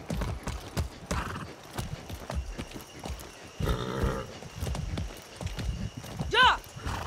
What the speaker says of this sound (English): Hey, a magic horse.